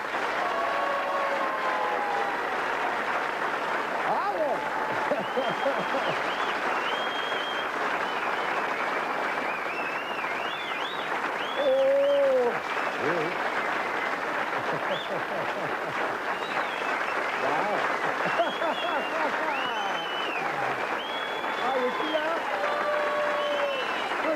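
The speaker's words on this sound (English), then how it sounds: "You sure you don't have a machine down there with all that applause?" A studio audience on a 1983 Australian television talk show applauds a guest as he is welcomed, long unbroken clapping with cheers, while voices talk and call out over it.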